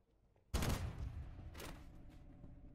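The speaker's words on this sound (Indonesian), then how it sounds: "tiba-tiba Mr. Choi menembaknya" Gunfire in a Korean film scene: a sudden loud shot bursts in after near silence, a second sharp shot follows about a second later, and the reverberant tail rings under low background sound.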